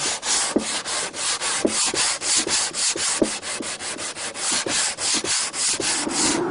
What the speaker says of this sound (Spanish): vamos a proceder a darle una pequeña lijadita a todo el contorno para que tenga un buen terminado